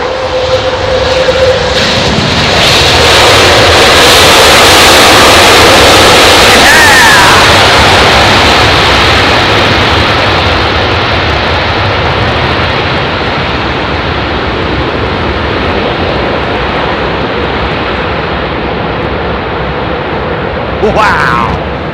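An airliner lands at London Heathrow in low visibility and opens its engines up. A loud, close roar of jet thrust swells, holds as a broad rushing blast, then slowly eases while still filling the air.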